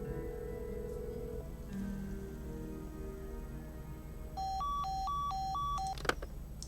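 Electronic telephone dialing tones from an office desk phone in the Nancy Drew game The Secret of the Scarlet Hand play as a quick run of alternating beeps over a quiet background hum, ending in a click.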